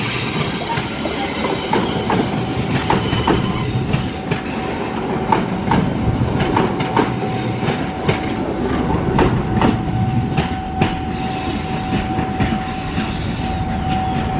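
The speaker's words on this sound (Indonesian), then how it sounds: "Ini kereta api Jaka Tingkir dari Solo Purwosari menuju Jakarta Pasar Senen, membawa kelas ekonomi" Jaka Tingkir economy-class passenger train from Solo Purwosari to Jakarta Pasar Senen, passing through a Jakarta station: a steady, loud rumble of rolling cars with rhythmic clickety-clack of wheels over rail joints and a faint high wheel squeal, no talk.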